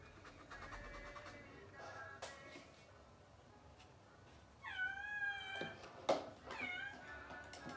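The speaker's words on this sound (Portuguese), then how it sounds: "esse é o meu gato" Domestic cat meowing for food, several drawn-out rising and falling meows close by against a quiet room, with a couple of sharp knocks.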